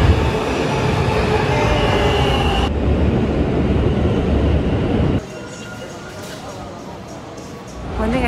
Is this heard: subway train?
yes